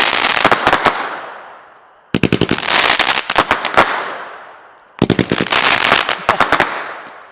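A Boomer Bang firework cake goes off in three rapid volleys, each a burst of sharp crackling bangs that decays before the next salvo, loud and close with no talk over it.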